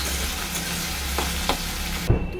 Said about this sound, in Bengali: এখানে আমি কালো জিরে ফোড়ন শুকনো লঙ্কা দিয়ে ভেন্ডিটা ভেজে নিচ্ছি